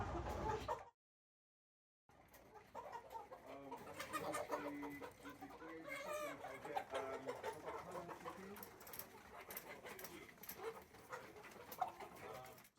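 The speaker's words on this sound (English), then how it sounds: "This little coop here, the full capacity is 350 chickens." Crowded chicken coop holding up to 350 broiler chickens, a dense constant chorus of clucking and chirping from many birds, fairly close, after a brief silent gap near the start.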